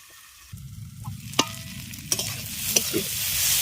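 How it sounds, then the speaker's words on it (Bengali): Potatoes and bitter gourd leaves fry in a covered pan with a steady low sizzle, broken by a few sharp clinks of a spatula. "এবার ঢাকা দিয়ে আরও কিছুক্ষণ এটাকে ভেজে নেব যাতে সমস্ত কিছু খুব ভালোভাবে নরম হয়ে যায়"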